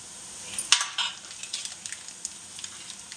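Garlic, ginger and coriander powder sizzle in a hot pan for a paneer biryani, a crackling fry with an initial loud hiss and scattered pops and stirring clicks that ease off.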